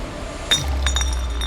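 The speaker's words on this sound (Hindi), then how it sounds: "ग्लास गिर गया" A glass drops and clinks sharply once on a hard surface indoors, with a brief bright ring and a few smaller rattling chinks afterward over a low room hum.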